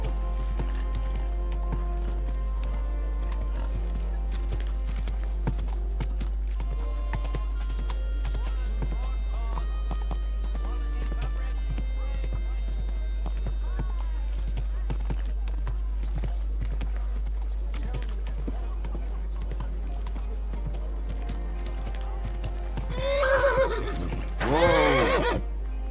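Horse neighing and hooves in Kingdom Come: Deliverance 2, heard under steady game music, with a louder whinny rising near the end.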